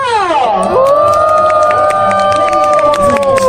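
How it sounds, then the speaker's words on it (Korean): A crowd roars and cheers at a lively contest in a folk village setting, with loud, sustained whooping voices rising and holding over a busy background. "박수와 함성!"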